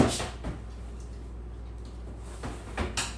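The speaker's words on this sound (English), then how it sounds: "I'm closing off the dog door for a minute." A dog door is shut with a few faint clacks and knocks, a soft thump at the start and sharper taps near the end, in a quiet room.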